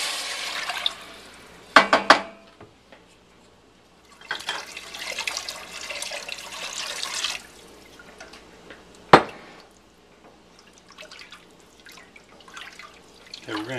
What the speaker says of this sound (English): we're going to go ahead and add 4 cups of water